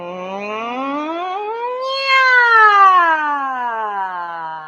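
A single voice sings a nasal "nya" sliding smoothly up in pitch and then gliding back down, imitating a siren, loud and close.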